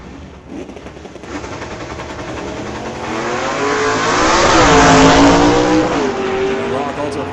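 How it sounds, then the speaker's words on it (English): Drag race cars, a Ford Mustang against a Racing Comet, roar off the line and build to a loud, sustained engine howl with rising pitch sweeps. An announcer's voice runs underneath. "The Ford Mustang going up against the Shin Kicker Racing Comet."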